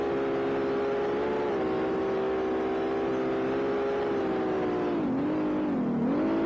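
An Audi S4 at full throttle in a racing video game, lapping the Nürburgring or Tsukuba in a time attack: a steady, loud engine drone holding high revs, dipping briefly twice near the end as it lifts and picks up again.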